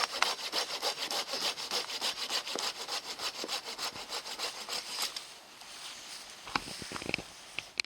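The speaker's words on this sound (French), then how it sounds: "Soit on le bouge, soit on va le scier pour laisser un peu plus de place." A hand saw cuts through a tree at a mountain campsite, its rapid rhythmic back-and-forth strokes close and steady for several seconds, then slowing to a few scattered rasps and knocks.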